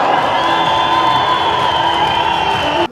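Fans at an ice hockey match shouting and cheering in a loud, sustained crowd roar with whoops, cutting off abruptly at the end.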